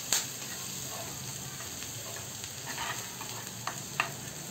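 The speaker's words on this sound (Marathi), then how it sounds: "हे सगळे मसाले आपण आता यामध्ये घालूया आणि छान परतून घेऊया।" Ground spices including goda masala and turmeric are sautéed with onion in a frying pan, giving a steady close sizzle with occasional stirring scrapes and taps and no voices.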